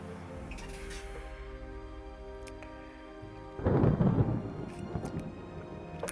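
A naval battle game's thunderstorm: a low rumble of thunder swells partway through over a steady bed of game ambience and tonal hum, then slowly fades, with no voices.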